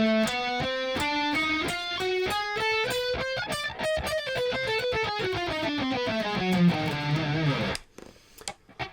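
A guitar runs up an eight-note half-whole diminished scale in E in quick, evenly picked notes with a slightly distorted tone, then descends and settles on a low note before stopping abruptly.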